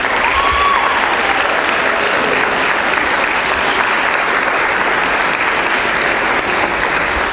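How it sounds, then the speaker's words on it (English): Steady, dense applause from a large audience at a 2013 academic convocation honoring students, loud and continuous throughout with no speech over it. "Let's now give a round of applause to these students."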